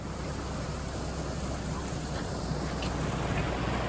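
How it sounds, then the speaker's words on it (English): Water rushes steadily through a lock bywash beside a canal on the Leeds and Liverpool route, a continuous close, moderately loud wash with no talk over it. "That's called a lock bywash. And it keeps the water flowing down the canal."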